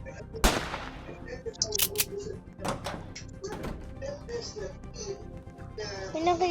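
Gunfire in the stealth horror video game Manhunt: a sharp, loud shot near the start followed by several more scattered bangs and clatters over a steady game background, with a voice talking throughout.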